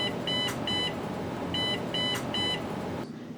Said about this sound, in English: generate the console alarm sounds